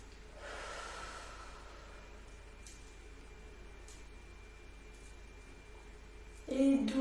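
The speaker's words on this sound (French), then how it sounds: "Soufflez bien." A slow, deep exhaling breath during a sophrology relaxation session, soft and close, a steady airy hiss lasting several seconds in a quiet room before a brief louder sound at the end.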